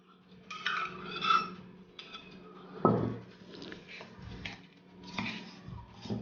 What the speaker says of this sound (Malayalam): അപ്പോൾ രണ്ടും കൂടി ഒന്ന് നമുക്ക് മിക്സ് ആക്കി എടുക്കാം.